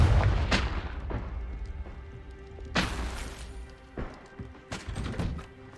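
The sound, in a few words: Confringo fire spell blast, from video game Hogwarts Legacy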